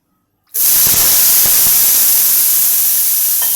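Dhirde batter, a traditional Maharashtrian pancake, hits a hot tawa griddle with a sudden, loud sizzling hiss that begins abruptly and holds steady and close throughout. No one talks.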